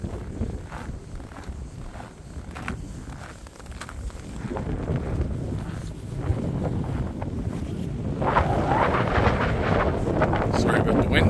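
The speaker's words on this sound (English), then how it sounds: "Sorry about the wind." Wind buffets a microphone on a cold winter walk through Angrignon Park in LaSalle, a continuous rumbling roar that swells and grows louder toward the end, with some faint voice mixed in.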